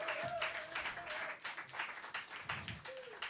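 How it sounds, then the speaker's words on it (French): Concert audience applauding at an intimate show, a steady wash of clapping with a couple of whistles rising above it, fairly close and continuous throughout. "on peut les applaudir vraiment très très fort"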